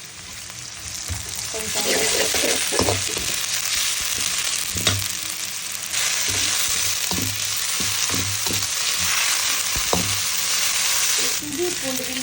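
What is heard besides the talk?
ginger garlic paste frying in a pan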